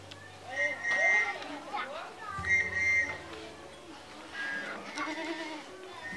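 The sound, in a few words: goat bleating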